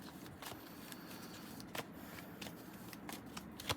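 Tarot cards riffle and slap as they are shuffled and drawn by hand, quiet close papery flicks and soft snaps in uneven bursts with no talking.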